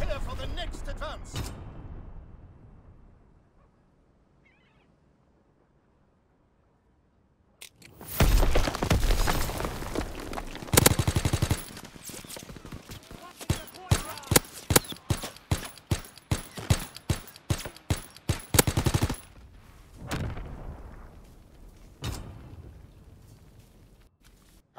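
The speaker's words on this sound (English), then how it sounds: "Enemy bomb incoming. Get to cover. Enemy strafing run inbound." Enemy bombing and strafing run in Call of Duty WWII: after a near-silent lull, a loud burst of explosions breaks into about ten seconds of rapid, crackling gunfire and impacts that then fade, with voices before and after.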